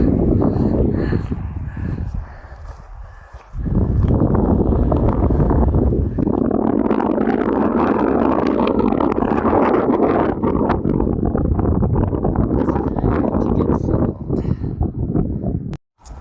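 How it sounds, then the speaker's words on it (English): Wind on an exposed mountain ridgeline in New Mexico roars in heavy, gusty bursts that buffet the microphone, easing briefly after two seconds before returning strong and sustained. "A little windy, but it's pretty awesome."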